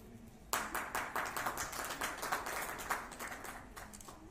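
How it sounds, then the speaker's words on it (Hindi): Audience applause at an award ceremony where certificates and mementos are presented, a burst of clapping that starts sharply and continues steadily at moderate loudness with no talk over it. "एक बार जोरदार ताली हो"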